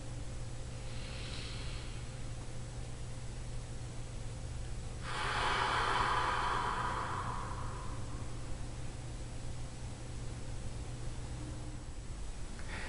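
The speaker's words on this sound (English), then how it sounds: "Deep, exaggerated breathing." Deep, exaggerated breathing in a bodywork exercise: one faint breath early on, then a long, loud breathy exhale lasting several seconds over a steady low hum.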